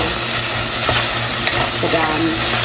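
Onion, garlic and ginger sauté in a hot pan for beef bas-oy, a steady dense sizzle with stirring scrapes and small crackles, close and continuous, with no talking.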